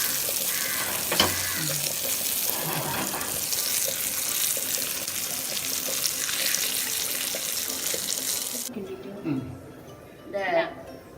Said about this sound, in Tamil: அண்ணாச்சி பழத்தை விட்ட உடனே சுறுசுறுன்னு வருது